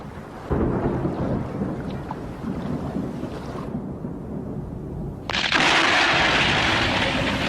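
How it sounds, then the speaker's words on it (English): A thunderstorm over the high Ethiopian plateau in the rainy season: a steady wash of heavy rain and wind with low rumbling, easing briefly midway before a louder burst of broadband hiss takes over near the end, with no voices. "storms rage over the high Ethiopian plateau"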